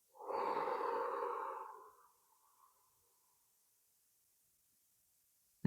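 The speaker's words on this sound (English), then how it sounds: "Now let's start by taking a long inhale" One long, slow exhale during a guided breathing exercise: a soft, close, breathy rush lasting under two seconds that tapers away into silence.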